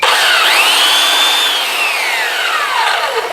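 A belt sander runs continuously while a Delta planer blade is sharpened against it, giving a loud, steady grinding whine whose pitch slowly rises and falls as the blade moves across the belt.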